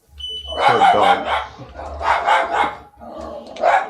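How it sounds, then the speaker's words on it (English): A dog barks and yips repeatedly in close, loud bursts, while a thin high smoke-detector chirp from a low battery sounds faintly in the background. "I am going to go change the battery in that detector because the dog is going mad."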